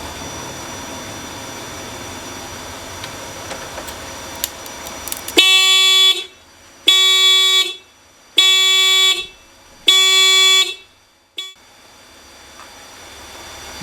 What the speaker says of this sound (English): alarm on the car for some reason, the panic alarm